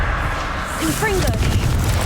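A Confringo blasting spell detonates in Hogwarts Legacy, a loud rumbling boom with crackling debris. A voice shouts briefly over it.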